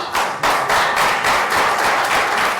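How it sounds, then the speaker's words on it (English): A crowd claps in dense, steady applause at the close of an academic event on global languages and careers. The clapping stays loud and continuous, with brief swells, and no voices are heard. "Applause for you."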